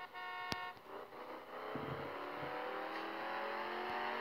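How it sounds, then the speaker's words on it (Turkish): A car horn in the driving game Driving School 2017, played with a Bentley, gives one short sharp toot near the start, followed by a steady engine hum that slowly rises as the car accelerates. "Korna sesi de iyi."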